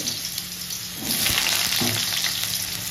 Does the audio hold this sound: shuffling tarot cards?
no